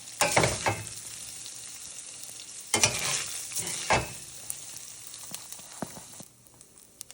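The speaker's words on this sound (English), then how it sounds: "Continue to stir and break up the sausage until it's browned and fully cooked." Italian sausage browning in a pot, a constant sizzle broken by three loud bursts of scraping stirring, then fainter sizzling with light clicks toward the end.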